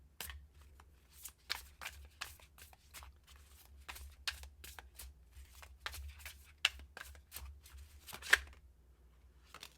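Tarot cards being shuffled and drawn by hand: a rapid series of crisp riffling and flicking bursts, close and fairly quiet over a low steady hum, with no voices.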